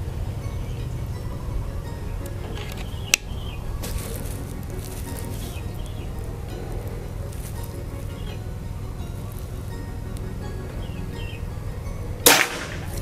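A PCP air rifle, a 2023 Pajero Gun Gen, fires with one sharp, close crack early on, followed by a long low steady background hum and a brief clattering burst near the end.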